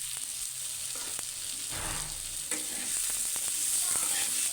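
Thinly sliced potatoes frying in a pan, a continuous close sizzle of oil with occasional clicks and scrapes, growing slightly louder toward the end.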